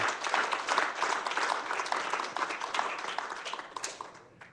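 Church congregation applauding during a Spanish-language sermon, a moderate, steady wash of claps lasting several seconds and tapering slightly toward the end.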